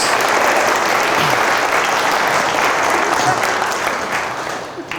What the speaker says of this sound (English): So, yes, round of applause.